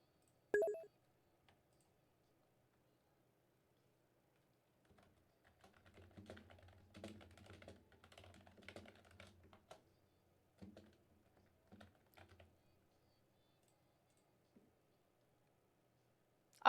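Bursts of light keystrokes on a computer keyboard during a VTuber animation challenge, fairly quiet and close, clustered in the middle of an otherwise near-silent stretch, with a sharp click at the start.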